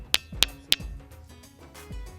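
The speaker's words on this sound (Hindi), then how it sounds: "आप धातु की आवाज़ आती है अंदर से।" Three quick strikes on a rock of a hill in Bihar, India, ring out with a clear, bell-like metallic ping, followed by quieter low thuds and background noise.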